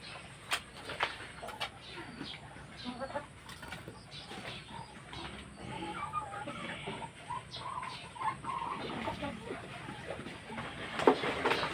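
Ducks and chickens cluck and chatter softly in the background with scattered bird calls, faint and close, punctuated by occasional louder squawks.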